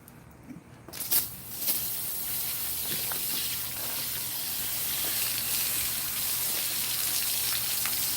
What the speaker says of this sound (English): Just use the hose and hose it out.